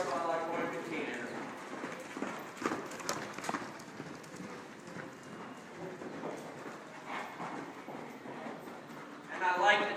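Horse hooves clip-clopping while the horse gaits and canters around a circle, a steady rhythmic drumming of footfalls at moderate distance, mostly faint and a little muffled by background noise.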